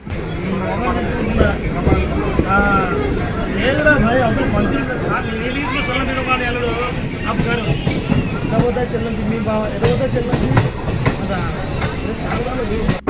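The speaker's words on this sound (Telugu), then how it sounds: "ప్రజెంట్ వచ్చేసి ట్రైన్ సంజామల స్టేషన్కి అయితే ఎంటర్ అవుతుంది." A train rolls into Sanjamala station on the Nandyal–Yerraguntla railway line, a steady rumble with rhythmic wheel clatter throughout and a voice talking over it.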